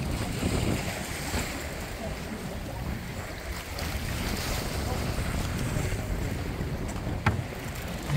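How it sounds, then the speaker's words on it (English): Gusting wind buffets the microphone on a fishing boat off Neah Bay while waves slosh and surge against the hull in a constant, rough roar, with a brief knock near the end. "if you can't handle waves like this, wind, rain, tough conditions, yeah, it ain't for you"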